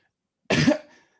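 A single short, close cough from one person, loud and abrupt, alone against silence.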